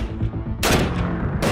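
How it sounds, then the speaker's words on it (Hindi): Gunfire during an Indian Army Rashtriya Rifles anti-terror operation, with two loud, sharp bursts of shots, the second one sustained, close by over a rumbling background and no talking. "आतंकवादियों ने भागने के इरादे से हमारे ऊपर फायर शुरू कर दिया।"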